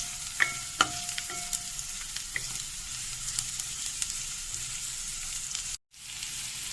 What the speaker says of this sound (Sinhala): ඊළඟට උඹලකඩ මේ ටික එකතු කරලා හොඳින් මිශ්‍ර කරමු